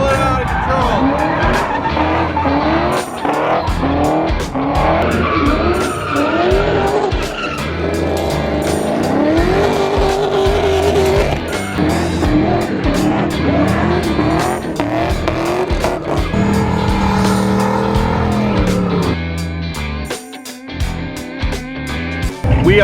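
At an LS-swap car festival sideshow, cars perform burnouts with loud, sustained tire squeal and revving engines close by, the roar shifting in pitch throughout, with crowd noise and voices mixed in.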